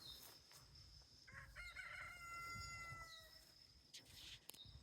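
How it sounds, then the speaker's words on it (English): A homestead cockerel on a four-acre Spanish smallholding crows once in the middle distance, a rising then falling call over steady outdoor background noise. "You hear our cockerel in the background, very vocal."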